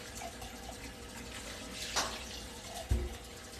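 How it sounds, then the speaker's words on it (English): Tap water runs steadily into a kitchen sink as beans are rinsed in a container, a soft continuous flow with a couple of brief splashes and knocks. "Turn my water on. Put those beans in the container and rinse them off."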